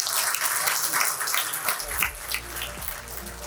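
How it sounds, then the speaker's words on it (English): Audience at a Pan IIT keynote on research applauds in a steady wash of many hands, fairly faint and distant, with a low hum entering partway through. "Ladies and gents, round of applause"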